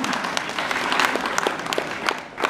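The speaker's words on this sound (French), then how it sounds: "Et on peut l'applaudir." Audience at a hypnosis show breaking into applause, a dense patter of many hands clapping in a hall, fairly close and sustained for a couple of seconds before easing off.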